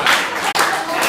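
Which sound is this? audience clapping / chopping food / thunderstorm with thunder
audience clapping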